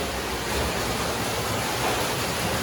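Water gushes steadily from a bore pump into a well, a loud continuous broadband rush that holds from start to finish with no talk over it.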